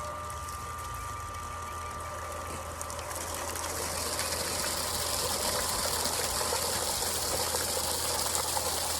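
Water rushes out of a pool sand filter during backwashing in a steady, loud gush that builds after a few seconds, over a low mechanical hum like a pump running.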